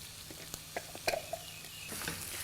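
Chicken mince sizzles and fries in a pan, a faint steady crackle punctuated by a few scraping stirs and taps of a utensil, with the sizzle swelling slightly toward the end.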